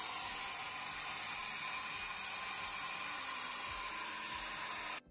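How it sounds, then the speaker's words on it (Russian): A hair dryer runs at full power drying out a soaked Kvorum BK-05M home computer, a loud, steady, broadband whoosh that holds without a break and cuts off abruptly at the end. "берем фен и жарим на максимуме 5-10 минут"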